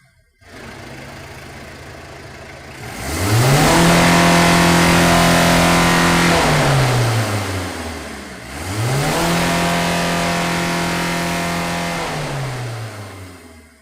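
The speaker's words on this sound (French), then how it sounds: "2 accélérations sont effectuées, espacées de quelques secondes." Diesel car engine during an exhaust opacity test, idling and then revving hard twice a few seconds apart, each rev climbing to a loud sustained roar before dropping back, close by with no talking.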